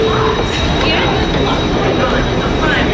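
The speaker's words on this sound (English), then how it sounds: "when the lights are flashing, that's when the train's coming" A subway train moves through a Washington DC metro station, producing a loud, steady rumble with a rushing roar that fills the whole stretch without a break. Faint voices may sit under the noise.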